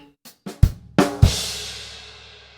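Drum kit playing beats three and four of a swung Grade 3 exam bar: a few light ghosted taps lead into two punchy low hits, the last ringing out with a long, bright cymbal crash that fades slowly.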